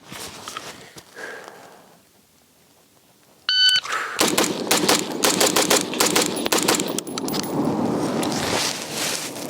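A Rosco K9 12.5-inch rifle firing a timed target drill outdoors: a sharp electronic timer beep, then a rapid string of loud close shots with ringing echoes, after quieter handling noise at the start.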